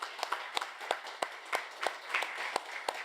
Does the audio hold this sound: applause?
yes